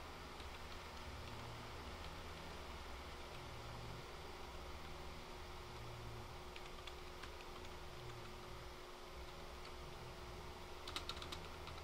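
Steady, light typing on a computer keyboard, soft clicks running continuously alone over a quiet background hum with no talk.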